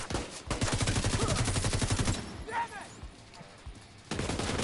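Rapid automatic gunfire rattles in dense bursts during a shootout in The Division 2, loud and close, then tails off into a quieter stretch before another loud burst returns; someone talks briefly.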